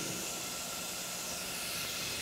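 Half of a small onion sautés in a pan over medium heat, giving a steady, even sizzling hiss without breaks, close but soft, with no talking.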